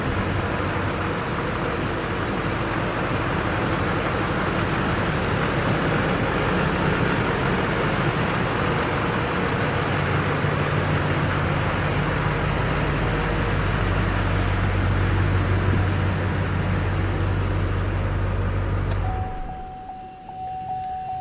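A 2005 Chevrolet Silverado 3500 dually with a Duramax diesel engine idles indoors with a steady, loud, low diesel clatter and rumble that runs unbroken until it suddenly drops away near the end.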